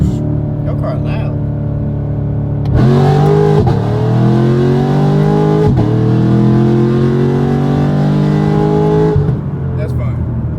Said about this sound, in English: Your car loud.